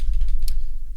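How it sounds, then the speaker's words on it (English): Quick clicks of keys on a computer keyboard as a price is entered, a short close burst of light taps lasting about a second. "in this box here where it says trigger price, I'm going to type that price point in"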